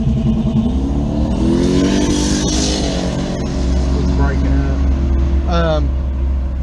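A C5 Corvette engine roars and revs with a deep, throaty drone, steady and loud up close, pitch climbing and falling through the rev, while a person talks over it.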